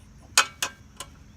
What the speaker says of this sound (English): That's a pretty handy wrench. Look at that thing. Fits right on there, and then it ratchets.